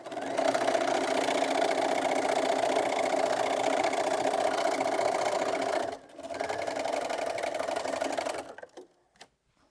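Sewing machine stitching a sashing strip onto a layer-cake quilt, a steady fast mechanical whir running for several seconds, briefly pausing, then resuming before stopping.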